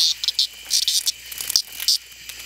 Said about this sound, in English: Here's one of those damn cicadas.